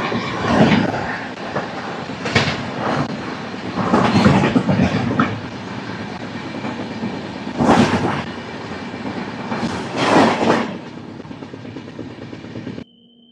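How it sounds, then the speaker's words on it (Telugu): Dharmavaram Express passenger train running on rails near Giddalur station, with a loud, continuous rushing roar and repeated rhythmic clatter bursts from the wheels, close by, until the sound cuts off near the end. "మన ధర్మవరం ఎక్స్ప్రెస్ వచ్చేసరికి గిద్దలూరు స్టేషన్ నుంచి కూడా స్టార్ట్ అయిపోయింది"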